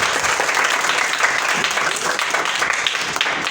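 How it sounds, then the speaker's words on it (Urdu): Audience applause at a church gathering, a dense, steady burst of many hands clapping that holds loud and even for the whole few seconds, with no talking over it. "تالیاں بھی"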